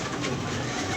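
Pigeons coo softly and continuously from a loft as the birds are let out, a low steady murmur with no voices over it.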